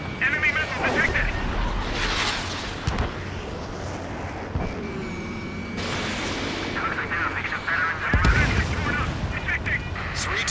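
Fighter jet guns rattle in the Ace Combat 7: Skies Unknown flight game, with bursts of gunfire layered over constant engine roar and synthetic cockpit voice alerts throughout.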